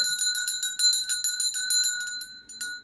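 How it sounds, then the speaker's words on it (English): A small hand bell rings in quick repeated shakes for about three seconds, bright and fairly close, with no talking over it. "I'm going to ring my bell to give you some good energy"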